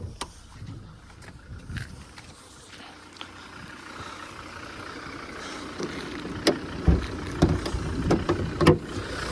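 Volvo V50 D3 with a five-cylinder 110 kW diesel engine idling, a steady low hum with light clicks and a few louder knocks toward the end, heard close up without talk.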